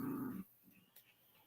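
Small puppies give a short low growl up close, followed by faint whimpers and soft grunts, quiet and brief with no talk.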